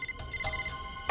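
A mobile phone rings inside a closed drawer in an office, a muffled electronic ringtone with tonal bursts repeating in short pulses, fairly close and heard alone.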